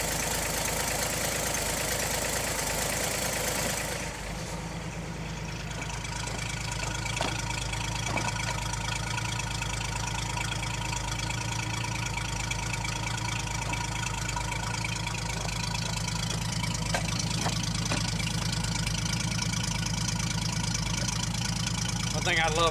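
A 1959 GMC old six-cylinder engine idles very low and steady, a continuous rumble that shifts slightly after a few seconds and then holds an even, unbroken drone throughout.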